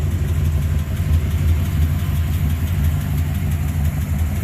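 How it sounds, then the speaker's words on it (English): A 1971 Dodge Demon engine idles steadily with a low rumble and a faint ticking, puffing rhythm from an exhaust leak at the header, close by and continuous. "got an exhaust leak in the header"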